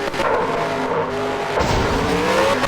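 Race cars roar around an oval in the mobile game Stock Car Racing, loud continuous engine whine with shifting pitch and tire squeal, close and unbroken throughout.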